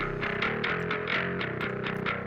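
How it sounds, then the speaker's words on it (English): Bass guitar run through a TSC Audio BOD overdrive distortion on top of an amp simulator, giving a gritty, driven tone with steady rhythmic notes played alone at a constant loud level. "I add this distortion on there"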